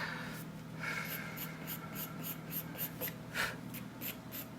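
A medium charcoal pencil pulls long curved strokes across paper while drawing hair on a portrait, a soft scratchy rasp repeating in a quick, even rhythm, close and quiet.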